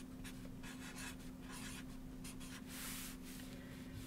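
A pen drawing on paper, a treasure picture being sketched, heard as faint, quick scratchy strokes in short bursts and longer rubbing sweeps over a low steady hum, with no voices.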